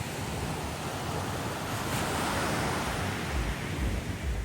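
Waves of the Filipino Sea wash onto a beach in a steady, close roar of surf with broadband hiss and some wind buffeting, and a slight swell of breaking water midway.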